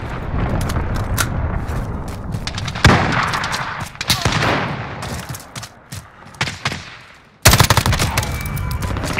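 Loud gunfire and a cruise missile strike in Call of Duty: Modern Warfare: dense close bursts of shots, a heavy blast around the middle, and a sharp explosive impact near the end followed by more rapid firing.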